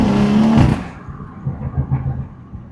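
A straight-piped 500hp BMW 340i launches hard on launch control, its loud engine note rising for a moment before dropping away into a quieter, rumbling drone.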